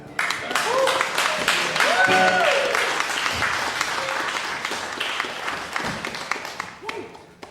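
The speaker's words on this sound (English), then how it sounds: "Another round of applause for Zach King." Audience applause after a folk song performance at a folk festival, a dense, sustained wash of clapping that carries throughout, with voices calling out over it and a cheer near the start.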